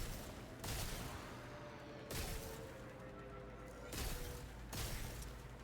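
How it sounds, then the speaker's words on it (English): Gunfire rings out while enemies are shot in the Warframe video game, with four heavy booming shots spaced a second or so apart over a constant rumbling game background. "Did I shoot all of the dudes?"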